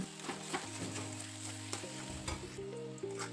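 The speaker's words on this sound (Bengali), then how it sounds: "তারপরে আমি লঙ্কা গুঁড়ো, জিরা গুঁড়ো দিয়ে ভালো করে নাড়াচাড়া করে নিতে হবে।" Chili and cumin powder are stirred into masala frying in oil for an egg curry. The spoon scrapes and stirs steadily over a continuous close sizzle.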